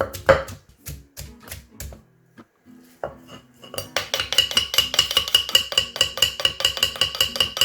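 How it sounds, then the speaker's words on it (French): Garlic pounded with a pestle in a mortar for Thai chicken noodle soup, irregular knocks at first, then a fast, steady run of sharp, close thuds. "je vais écraser de l'ail."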